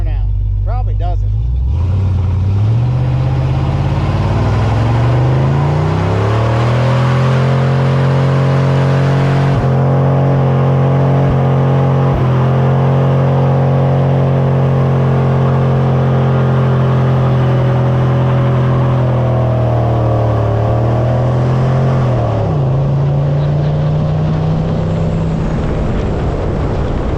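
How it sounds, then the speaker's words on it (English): A truck engine roars close and loud through a burnout attempt, rising from idle into a sustained high rev that holds for many seconds before easing off, with brief shifts in pitch along the way; a voice talks over it. "Let's see if this thing has any power to do a burnout."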